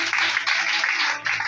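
A church congregation applauding during a worship service, a steady wash of many hands clapping at close range, continuous and fairly loud throughout the brief moment, with a voice faintly underneath.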